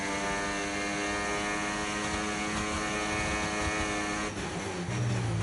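An Alpine Formula 1 car's engine in an F1 racing game holds a loud, high whining note throughout, a dense continuous roar that shifts near the end as the car passes.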